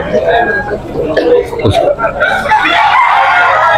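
A bull stag gamefowl rooster crows once, loud and close, while several people talk over and around it.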